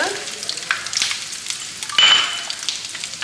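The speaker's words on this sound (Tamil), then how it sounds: "ஸோ இப்போ இந்த முந்திரி பருப்பும் நல்ல பொன்னிறமாக ஆகிற வரைக்கும் ஃப்ரை பண்ணிடலாம்" Cashew nuts fry in hot ghee with a crackling sizzle, close and lively, with irregular pops and spoon scrapes rising and falling over three seconds.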